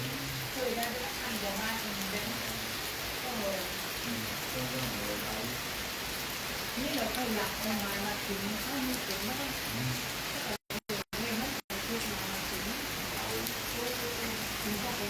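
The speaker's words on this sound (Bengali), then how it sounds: "আমরা এখন বৃষ্টি থামার জন্য অপেক্ষা করতেছি" Steady rain hisses at Karon View Point, Phuket, in a continuous wash of noise, with a person talking over it and a few sudden brief dropouts near the end.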